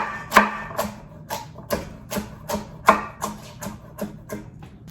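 A knife chops off the ends of vegetables on a cutting board in a home kitchen, giving about a dozen sharp, close, evenly spaced knocks.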